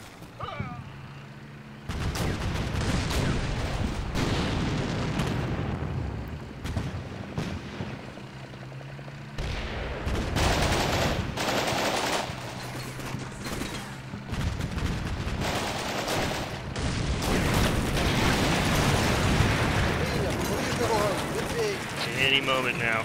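Artillery rounds land and explode in a Ukraine campaign war video game, a dense rolling barrage of booms and blasts running almost continuously with a voice talking over parts of it.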